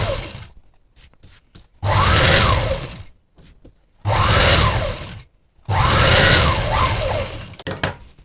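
An electric sewing machine stitches the folded edge of a blouse lining in three separate bursts of steady whirring, each lasting about a second, with quiet handling noises between runs.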